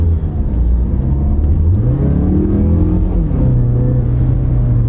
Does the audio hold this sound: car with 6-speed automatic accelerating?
yes